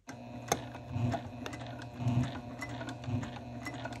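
Sewing machine stitching slowly through the thick layers of a clutch wallet, its mechanism whirring close by in short repeated bursts with small ticks between them and no talk.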